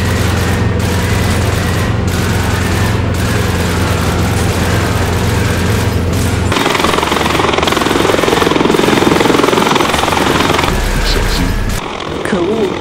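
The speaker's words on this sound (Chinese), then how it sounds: "那不是直升机，是旋翼机，它的旋翼类似风车，不能垂直升降或空中悬停" A gyroplane with a windmill-like rotor in an animated military battle scene gives a loud continuous engine and rotor drone, with low booms and a shift in the roaring mix partway through.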